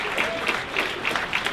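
Guests at the TMLCF Black & Gold Gala break into close, brisk clapping, a dense crowd applause filling the whole moment without speech.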